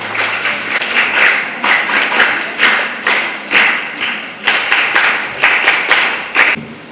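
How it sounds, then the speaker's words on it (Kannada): Audience applause welcoming a guest onto the stage at a Children's Day event held jointly by JCI Mangala Gangothri Konaje and Mercy Friends Asaigoli; steady clapping rises and falls in waves, with louder bursts throughout. "ನಿಮ್ಮೆಲ್ಲ ಚಪ್ಪಾಳೆಯ ಮೂಲಕ ಅವರನ್ನು ವೇದಿಕೆಗೆ ಸ್ವಾಗತ."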